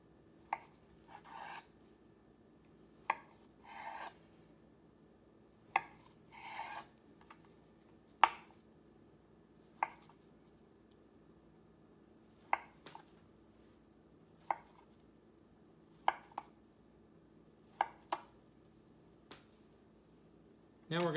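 A knife cubes a block of tofu on a cutting board, giving about a dozen sharp, separate chops at irregular intervals with quiet gaps between, close and clean.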